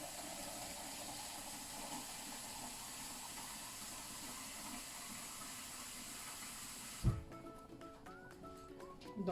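About a litre of water pours into a Cookeo multicooker as a steady rushing, hissing flow for roughly seven seconds, ending with a thump before quieter clinking handling sounds.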